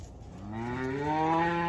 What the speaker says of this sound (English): You got all half-blood kind of heifers here with the Brahman bull calf.